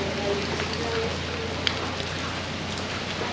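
Rain falls steadily in Vietnam, a constant soft patter with occasional sharper drips standing out against the even wash.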